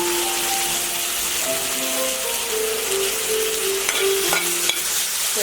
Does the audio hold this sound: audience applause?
no